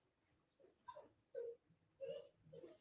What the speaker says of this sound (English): today we are with my dog